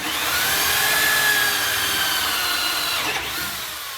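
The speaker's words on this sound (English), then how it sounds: "I drill that hole there." A power drill whirs loudly and steadily up close, boring a lock hole through a wooden entrance door, its pitch dipping briefly near the end as it breaks through.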